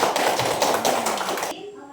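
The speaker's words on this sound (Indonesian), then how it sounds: "Tepuk tangannya mana?" A class of students claps together during an Islamic religion lesson on Asmaul Husna; a busy burst of hand claps lasts about a second and a half over room noise, then stops abruptly.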